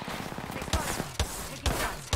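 Gunshots in Apex Legends fire from a floor above in three distinct booming cracks spaced about half a second apart, over steady in-game background noise.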